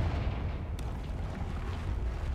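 A Confringo explosion spell goes off in a video game as a deep, rumbling blast, loud and sustained, with a sharp crackle near the start.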